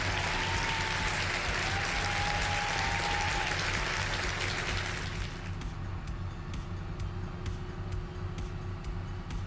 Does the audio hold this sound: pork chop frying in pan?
no